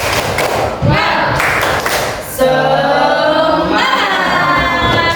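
An Indonesian classroom of students performs a rhythmic spirit-clapping chant, loud and close. Bursts of group clapping are mixed with thumps and voices chanting together, and then a sustained shout follows.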